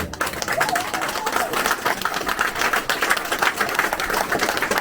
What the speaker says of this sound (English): I think we should do it anyway